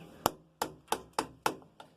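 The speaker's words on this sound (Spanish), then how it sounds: "yo lo voy a manejar con este gubia y voy a ir utilizando la veta para romper" A wood carving gouge chops wood along the grain: six sharp, close knocks land at a fairly even pace with no talking.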